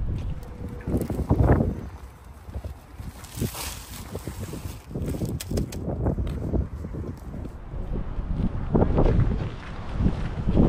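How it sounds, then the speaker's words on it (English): Strong gusty wind buffets the microphone outdoors at Allen Premium Outlets in Texas, roaring in uneven bursts throughout. "Very windy."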